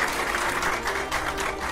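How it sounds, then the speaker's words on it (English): A seated audience at a Nigerian televised quiz show event applauds a guest, a dense, continuous roar of clapping hands that holds steady and fairly loud from start to finish. "Please give him another round of applause."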